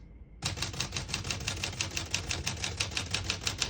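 Steady rapid keystrokes on a 1949 Smith-Corona Silent portable typewriter, close and even-paced, a continuous run of crisp mechanical clacks with no talking.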